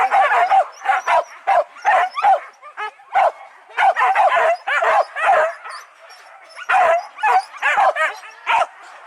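Dogs bark and yip in rapid overlapping bursts during a river-area hunt, loud and close, with brief whimpers between volleys and no pauses longer than a second.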